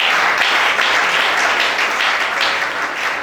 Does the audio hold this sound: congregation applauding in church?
yes